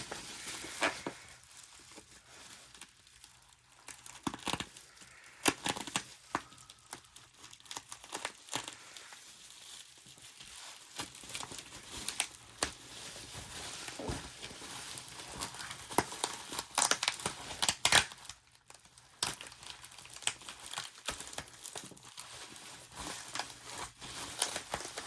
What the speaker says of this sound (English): so I'll just cut it open.